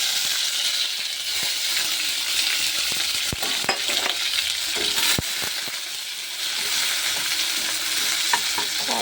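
Soybean chunks fry in a pan with a dense, steady sizzle close by, punctuated by repeated spatula scrapes and a couple of sharp metallic taps.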